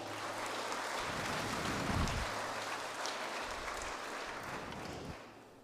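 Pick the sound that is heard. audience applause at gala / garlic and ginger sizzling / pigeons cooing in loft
audience applause at gala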